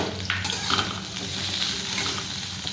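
Onion, garlic and chilies frying in hot oil for a prawn bhuna, a continuous close sizzle with wet crackles and occasional stirring scrapes, no one speaking.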